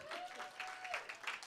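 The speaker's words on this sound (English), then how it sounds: "Can you clap it up right now if you're a mom in this room?" Audience clapping at a stand-up comedy show in a club, a brief burst of dense, moderately loud applause with a faint tonal whistle-like sound running through it.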